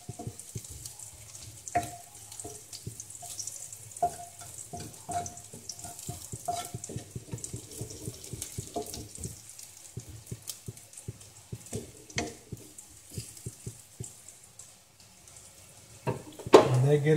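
Food browns and fries in a pan, a faint crackling sizzle under frequent clattering stirs and scrapes, with a louder clunk near the end.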